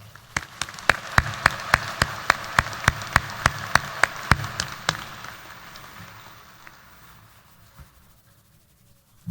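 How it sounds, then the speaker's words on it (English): Applause for the stage guests at the Berkeley High 2023 graduation: sharp, evenly spaced claps sound close over a softer crowd patter, then thin out and fade over several seconds. "Now, if you would join me in giving all of our stage guests a round of applause."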